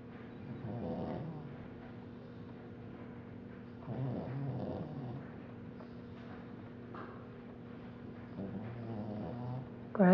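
A pug dog snores in repeated bursts roughly every few seconds, each a low rasping rumble close by, with quieter breathing between snores.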